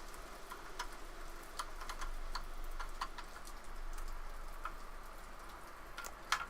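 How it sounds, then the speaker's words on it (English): Rain falls heavily outside, heard indoors as scattered ticking drops and taps over a faint steady patter, fairly quiet throughout. "It's raining really intensely."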